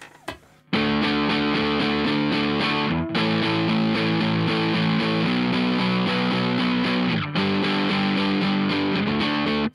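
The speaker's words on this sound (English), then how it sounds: "you can actually get distortion sounds without really boosting the volume because you're boosting the pedal" An electric guitar through a boost distortion pedal plays sustained, overdriven chords, loud and saturated, with brief breaks between held notes.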